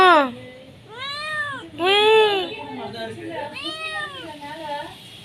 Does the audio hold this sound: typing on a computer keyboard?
no